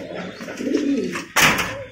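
A pair of maxi pigeons coo softly in a cage, low murmuring calls running throughout, with a brief louder flutter or rustle near the end.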